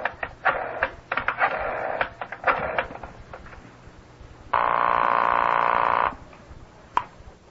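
An old-style telephone in a radio drama is picked up and dialed: a run of sharp clicks and rattling bursts, then a steady tone held for about a second and a half, ending with a final click.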